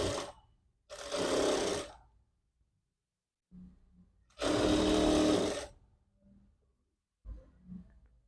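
Sewing machine stitching a quarter-inch seam on a back-open princess-model jacket runs in bursts of about a second each, separated by silences and soft handling noises.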